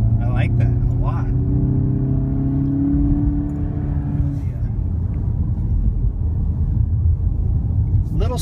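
VW GTI with a DSG automatic transmission downshifting on the road, the engine note stepping in pitch under a steady cabin rumble while a person talks over it.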